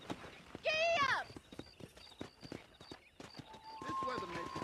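Horse hooves clip-clop in a Red Dead Redemption game scene, a steady trotting beat heard close, with a brief whinny near the start and game voices talking over it.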